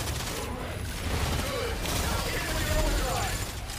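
Dense, continuous gunfire in the video game Exoprimal, with rapid overlapping shots forming a steady roar throughout, loud and unbroken.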